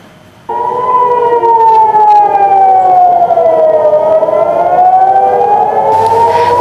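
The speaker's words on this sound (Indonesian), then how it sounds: "sirene kota di Tel Aviv kembali berbunyi" A loud civil defense siren in Tel Aviv wails steadily during an Iranian missile attack, its pitch slowly falling then rising again, droning on without pause.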